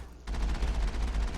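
Rapid machine gun fire from the Mako vehicle in Mass Effect, a dense, fast stream of shots that starts abruptly and keeps going steadily, loud and close with no talk.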